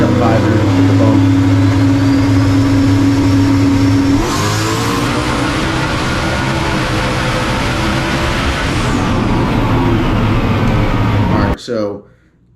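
A 2500 hp G-body drag car making a low four-second pass, its engine roaring loud and close at full throttle with a rising scream through the gears before abruptly cutting off near the end.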